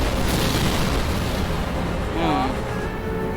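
An explosion in Final Fantasy XII lands as a loud, deep boom whose rumble slowly fades, with a brief warbling tone rising near the end.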